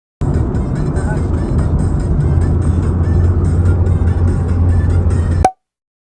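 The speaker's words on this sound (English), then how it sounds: "Got a couple more cars coming" Roadside traffic on a highway in Malaysia, with one vehicle's steady engine and tyre roar rising loud and close, holding for several seconds and then cutting off abruptly.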